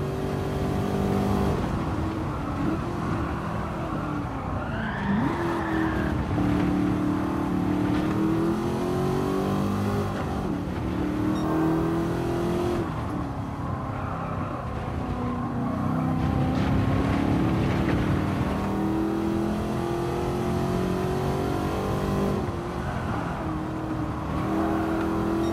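Racing engine of a De Tomaso Pantera in Gran Turismo 7 during a time trial, a steady loud drone rising and falling through gear changes and revs for the whole stretch, with no talking.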